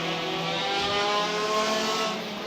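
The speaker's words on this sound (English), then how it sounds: "the cars accelerate down towards turn 1 for the first" Saloon race cars accelerate hard off the start toward the first corner, a dense, loud, sustained engine roar of several cars together rising in pitch, with no voices.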